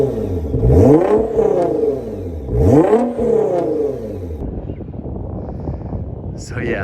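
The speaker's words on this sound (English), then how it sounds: "Now I will show you what the exhaust sounds like right here." Two loud engine revs from a 2018 Nissan GT-R V6 with modified exhaust swell and fall back in quick succession, then the motor settles into a rough idle with wind buffeting the microphone.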